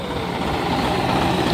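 A farm tractor engine idling in an opium poppy field, a steady, loud, low diesel rumble with a rough churning texture and no talk.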